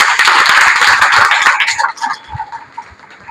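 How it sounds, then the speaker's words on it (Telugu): A Telugu seminar audience claps in a brief burst of fairly close, dense hand claps that fade out after about two seconds, with faint voices underneath. "అవునంటే క్లాప్స్ కొట్టాలి"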